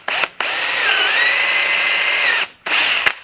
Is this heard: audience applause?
no